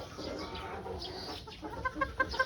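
Pure white Kelso chickens with pea combs, a trio, cluck and murmur nearby over steady farmyard background noise, with a few sharper clucks toward the end.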